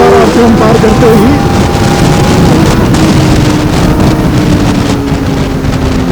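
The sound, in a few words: Kawasaki ZX4RR motorcycle engine revving past 8000 RPM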